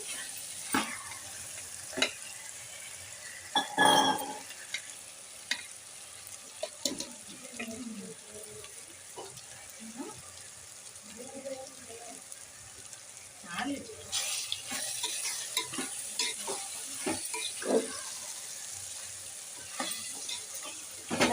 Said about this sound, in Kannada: ತರಕಾರಿ ನಂಗೆ ಚೂರು ಬೇಯಬೇಕು ಎಣ್ಣೆಗಳಲ್ಲಿ ನಂಗೆ ಸ್ವಲ್ಪ ಬೇಯ್ಕೊಳ್ಳಿ